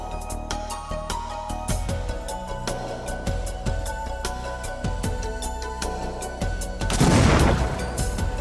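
Explosions from a training detonation of a car bomb package, heard as a dense run of sharp cracks and booms over a steady background, building to a louder, broader blast near the end.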